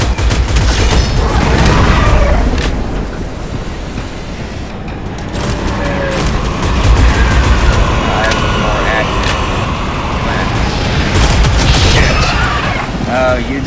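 Gunfire from shooting enemies in the video game Shadowgun Legends: dense, continuous bursts of rapid shots and impacts with booming hits, loud throughout, with a voice talking over the action.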